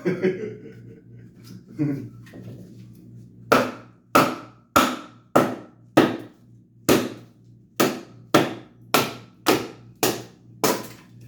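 A Stiletto OKC fixed-blade knife chopping into knotty wood, a close series of about a dozen sharp, evenly spaced thwacks after a few softer opening strikes, with a faint chuckle early on.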